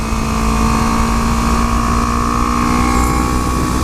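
A motorcycle rides along a street at a moderate pace, its engine droning in a steady, loud hum with a constant tone and rushing wind noise, continuous throughout with no talking.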